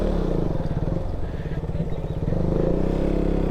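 Motorcycle carrying luggage on a rough road in rural Karnataka, its engine droning steadily and close, with rattling and clattering from the bumpy ride throughout.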